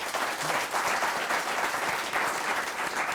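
A TV studio audience claps for politician Edwin Sifuna on a live talk show, a full, even burst of applause held at steady loudness throughout with no talk over it.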